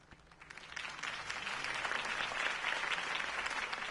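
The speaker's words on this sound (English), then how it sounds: "could have heard that applause" Crowd applause in the Batman Telltale video game, following Harvey Dent's campaign speech: dense clapping swells within the first second and holds steady and fairly loud to the end, with no clear voices over it.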